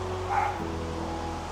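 A dog gives a single short bark-like yip, close and moderately loud, over a steady low background hum, in a home in Brisbane, Queensland.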